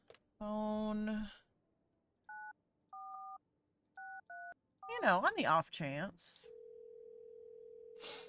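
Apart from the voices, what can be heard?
telephone dialing tones in a video game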